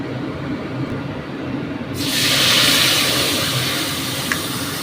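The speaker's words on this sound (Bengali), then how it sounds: "তেলে দিয়ে দিলাম, গ্যাসটা বাড়িয়ে দিলাম।" A spice paste of turmeric, cumin, coriander and chilli powder with ginger hits hot oil in a pan over a gas flame, for paneer kofta, and a loud, steady, hissing sizzle rises over a low background rumble.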